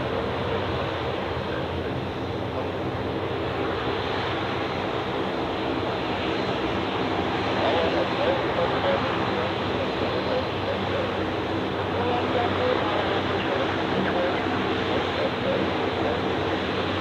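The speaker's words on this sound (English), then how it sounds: "And here we have Pegasus A321neo." A Pegasus Airbus A321neo at Zurich Airport makes a steady broad jet roar, loud and continuous with wind noise blowing across the microphone.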